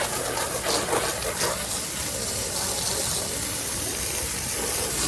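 Soft-wash water spraying onto the outside of a house early in the morning, a continuous hissing, gushing spray at moderate distance that holds steady with slight surges.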